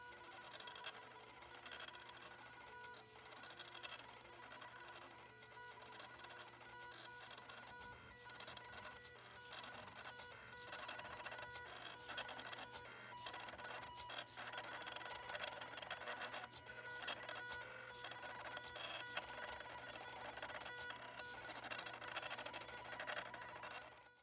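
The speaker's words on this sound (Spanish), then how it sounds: "Lo seleccionamos y ya tenemos a nuestro sistema imprimiendo" A homemade plotter prints a design made in Inkscape, giving faint, close mechanical whirs and irregular short ticks and clicks over a low steady hum, with no talk.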